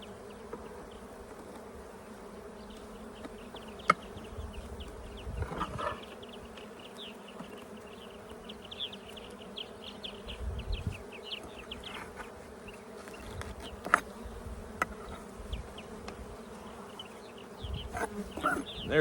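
Honey bees drone around an open beehive in a continuous faint buzz close to the microphone, with a few louder bees passing by and light handling clicks from the hive.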